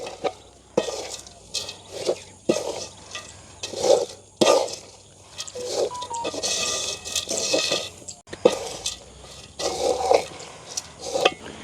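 Fried noodles are being tossed into onion sambal in a pan, producing repeated bursts of scraping, stirring and clinking at an uneven rhythm, close and fairly loud.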